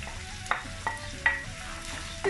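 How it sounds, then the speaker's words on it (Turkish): Chopped onions sizzle steadily in a hot pan while a utensil scrapes and stirs them a few times. The sound is close, and nobody speaks. "Ve soğanımı biraz kavuracağım."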